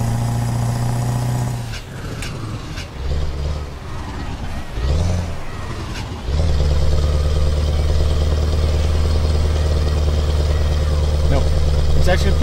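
Outside view of a heavy truck engine in Euro Truck Simulator 2, pulling a 24-meter tandem trailer. It starts with a steady low drone, breaks into shifting clatter and revving for a few seconds, then settles into a loud, constant rumbling idle.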